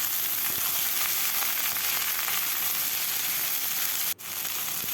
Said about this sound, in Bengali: আলুটা যখন ভাজা হয়ে যাবে তারপর দিয়ে দেবো কেটে রাখা বেগুন। বেগুনটা দিয়েও কিছুক্ষণ ভেজে